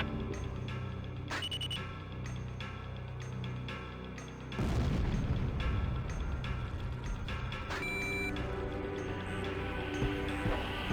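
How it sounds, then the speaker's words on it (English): Bombs exploding during a combat mission in Ace Combat Zero: a heavy rumbling blast cuts in midway over steady jet-engine drone and music, with a few further booms. "They're just tossing bombs all over the place"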